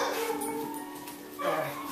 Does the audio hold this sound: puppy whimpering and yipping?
yes